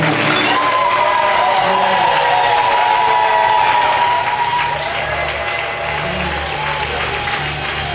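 A church congregation at a religious wedding applauds and cheers in a loud, sustained wash of clapping with scattered shouts and whoops, holding steady before easing slightly toward the end.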